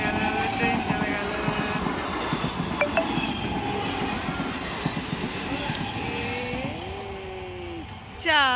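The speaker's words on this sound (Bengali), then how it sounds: "ট্রেন চলে গেল, ট্রেন চলে গেল" A train rolls past a railway crossing at Chandni station, a sustained rumbling clatter of wheels on track with a rising whine and squeal toward the end, while people talk nearby.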